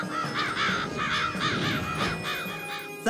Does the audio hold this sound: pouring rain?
no